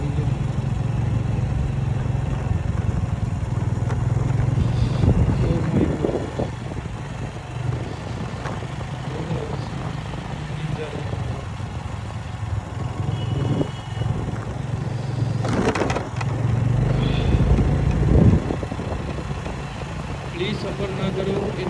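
A Honda Activa scooter rides through heavy night fog in Jalandhar, its steady mid-pitched engine drone running throughout under frequent talk from the rider, with occasional louder passing-traffic swells.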